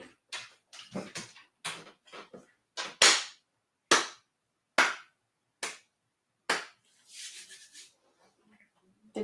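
Sharp hand claps ring out close by at a tasting of peated Scotch whisky, about ten irregular claps in short bursts with pauses between them. A voice talks early on and under the first claps.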